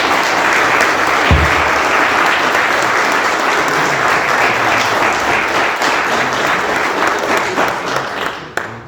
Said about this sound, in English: Can we all give them a round of applause and say thank you?